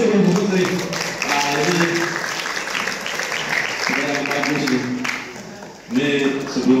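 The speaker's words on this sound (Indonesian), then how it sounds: "tepuk tangan dulu sih Bu Putri." A crowd applauds steadily with mixed claps during a university fire disaster management lecture and simulation, a voice speaking over it now and then as the clapping swells again near the end.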